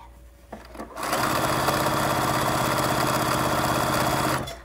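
A sewing machine stitches a pillowcase: a few soft clicks, then a continuous rapid whirring run lasting several seconds before it stops abruptly, close and clear with no voices.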